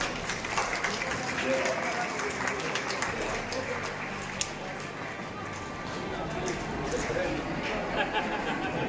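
A crowd applauds steadily during a lamp-lighting ceremony at a Lok Sabha election event in Chatra, with a sustained wash of clapping and chatter and voices mixed in.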